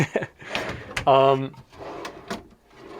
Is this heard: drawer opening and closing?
yes